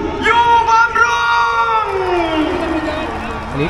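A dense crowd cheers and whoops at an outdoor political rally in Bang Khae, Bangkok, a loud, continuous roar of many voices with scattered shouts.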